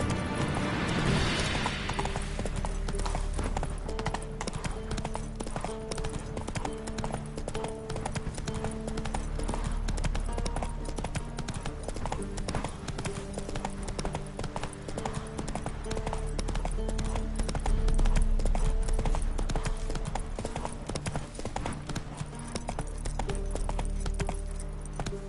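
Roach, Geralt's horse in The Witcher 3, gallops with steady rapid hoof clip-clops over game music and ambience, continuous and fairly close throughout.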